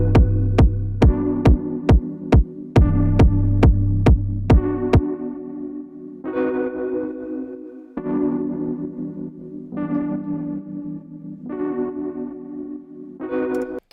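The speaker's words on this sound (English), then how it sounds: "We put the release a little bit longer so we get more of an effect" A kick drum pulses in a steady rhythm at first, then a sustained tonal pad swells and ducks in time with it, showing sidechain compression in the Luna recording software; the mix is loud with no talking.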